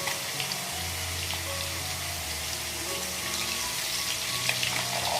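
Salted potato pieces frying in a pan for an aloo fulkopi dalna, giving a steady, moderately loud crackling sizzle throughout with no voices.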